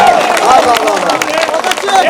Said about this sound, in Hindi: मुकर्रम सुनना है तो फिर तालियां आनी चाहिए तमाम लोगों की एक साथ।